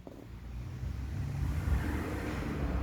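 A Mk1 car's engine rumbles low and steady, building slightly in level as it runs, close by with no talk over it.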